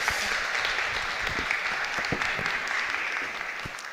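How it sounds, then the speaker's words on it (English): A conference audience at a business summit claps continuously, a dense and steady round of applause that tapers slightly near the end. "let's give Setati a big round of applause"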